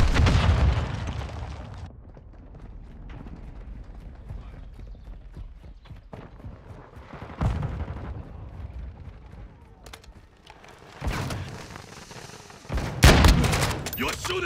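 Gunfire in Call of Duty: Modern Warfare II, with scattered shots and bursts rising to loud, sharp volleys near the end against a low rumbling battle background.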